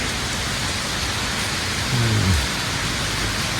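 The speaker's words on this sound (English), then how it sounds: "Such a pretty rain going on." Steady rain pours down outside a house in Galle, Sri Lanka, a continuous broadband hiss that fills the whole scene, with a brief low rumble rising underneath about two seconds in.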